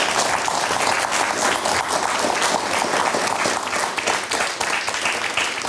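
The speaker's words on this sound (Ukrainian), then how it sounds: "От ви зараз плескали тому, що сказав пан Ренва." A hall audience claps steadily in dense, sustained applause, many hands at once filling the space at full volume with no pause.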